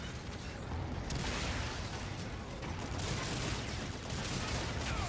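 Dense, continuous electric-gun fire from the Infinite Warfare campaign, a steady roar of rapid shots without pause throughout, with a player's brief exclamations over it.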